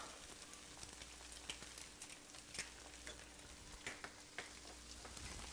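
Shrimp fried rice being stirred in a hot pan, a steady soft sizzle with scattered light scraping and clicks from the utensil, fairly quiet and continuous throughout.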